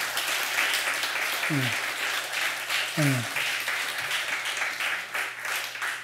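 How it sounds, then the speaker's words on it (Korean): A Korean Sunday worship congregation welcomes a returning church member with applause, a steady wash of many hands clapping throughout, with a couple of brief voices rising over it. "우리 한번 큰 박수로 한번 환영하시겠습니다."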